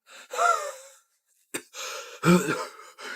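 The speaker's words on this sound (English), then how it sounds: "2 minutes later, she starts wheezing." A girl wheezes and gasps, struggling to breathe after using an inhaler: two strained, raspy breathing bursts separated by a short silence, close and fairly loud.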